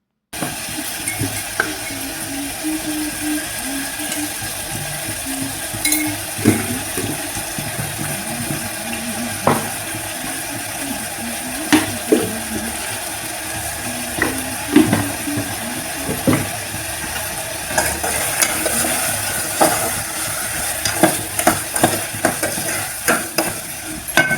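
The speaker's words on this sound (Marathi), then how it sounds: "मी हे मोठ्या थोड्याशा भांड्यामध्येच फोडणीला टाकत आहे" Steady sizzling and crackling of hot oil tempering in a small pot, continuous and close, with occasional clinks and stirring scrapes.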